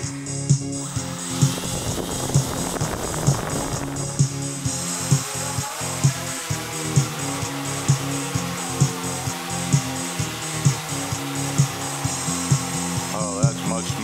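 Quadcopter motors spin home-made propellers at throttle, giving a steady layered whine with a rhythmic beating pulse throughout, and a voice speaks briefly over it.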